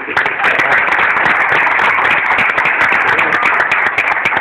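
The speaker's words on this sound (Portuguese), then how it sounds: "que todos fossem aplaudidos também" An audience applauds the ministries and coordinators at a church gathering, with dense, loud, continuous clapping filling the whole stretch without a break.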